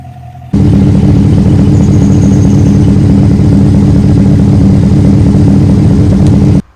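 A 5.3-liter LT truck V8 fitted with a ZR1 Corvette camshaft runs steadily at a loud, close idle with a choppy, even lope, alone after a brief quiet start and cutting off near the end.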